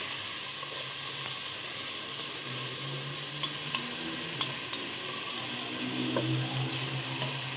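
Shawarma filling frying in a pan, sizzling steadily throughout with a few soft clicks and scrapes of a spoon stirring it, close and continuous with no talking.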